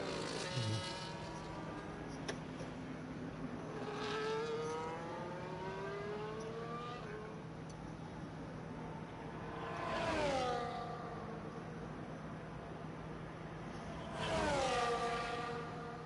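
Formula 1 cars from the F1 video game, Abu Dhabi GP qualifying, screaming past on a timed lap in repeated swells, each engine rising in pitch then dropping away, with a steady hum between passes.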